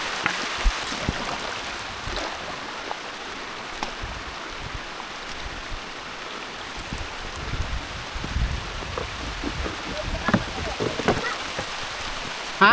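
Steady, dense rain pours down, a constant hiss of drops hitting surfaces close by, with occasional louder splashes and no voices.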